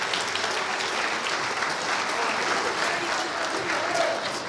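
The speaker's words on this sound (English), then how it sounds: "Give her an extra round of applause for not being in print." Steady audience applause fills a high school cabaret performance, a continuous even wash of clapping from a room of people that holds at a constant level throughout.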